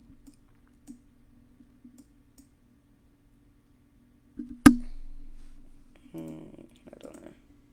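Computer mouse clicks at a desk while lines are drawn on a trading chart: a few faint scattered clicks, then one sharp loud click with a short trailing hiss, and a brief soft rustle near the end.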